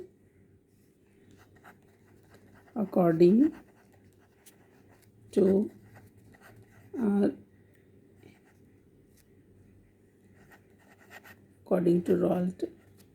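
A pen scratches faintly on paper while a chemistry problem on solutions is worked out, with soft continuous scribbling under several short bursts of a teacher's voice.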